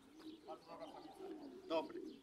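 Pigeons cooing softly at a racing loft during a pigeon arrival, with low murmuring coos and a brief flutter, faint and close, mixed with quiet background voices.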